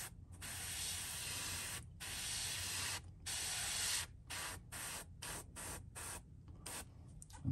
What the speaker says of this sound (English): It's just having some control over your airbrush.